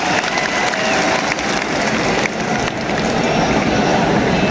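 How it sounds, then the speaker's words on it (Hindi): Loud, dense audience applause fills a hall at a Rajiv Gandhi birthday celebration, a sustained wash of clapping with a few dips and no clear talking. "और अब आपकी तालियां उठेंगी"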